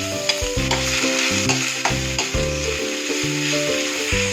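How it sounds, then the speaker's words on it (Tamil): Chopped onions, a cup of them, are stirred as they fry in a pan for potato bonda, giving a steady close sizzle with repeated scraping strokes of the spoon, over a constant tonal background. "அப்புறமா நல்லா நம்ம மிக்ஸ் பண்ணி விட்டுக்கலாம்."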